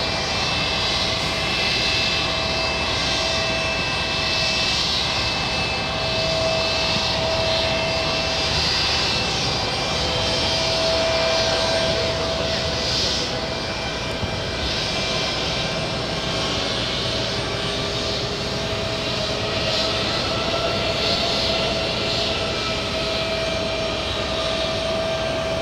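JetBlue jet aircraft taxi toward the gate at JFK airport, a loud continuous engine roar and whine holding steady throughout, heard alone from a distance.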